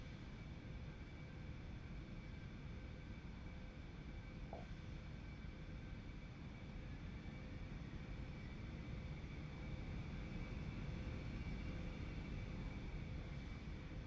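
An Aerobask Eclipse 550NG taxiing in X-Plane 11, its engines a constant close drone with a faint steady whine on top, running evenly throughout.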